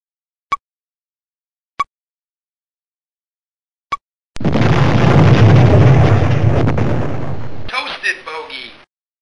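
In the EF2000 flight combat game, three sharp short clicks are followed by a long, loud roaring missile explosion that rumbles for about three seconds, then fades into crackling debris and a trailing hiss.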